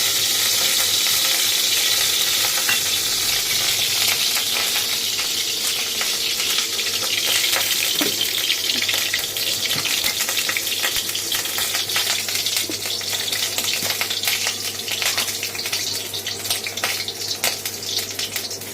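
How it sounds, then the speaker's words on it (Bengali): Oil sizzles loudly and continuously in a wok before pointed gourd is fried, a dense crackling hiss with small pops scattered throughout. "এই পটলটা বেটে নিয়েছি এবার কড়াইতে একটু তেল দেবো"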